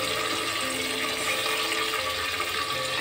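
Water poured steadily into onions in a pressure cooker, a continuous close splashing gush that stays even and loud throughout, with no talk.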